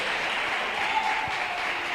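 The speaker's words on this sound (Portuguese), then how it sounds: "Vocês podem aplaudir o Senhor?" A church congregation applauds together in a steady, even wash of clapping that holds at a fairly low level throughout, with no voices rising above it.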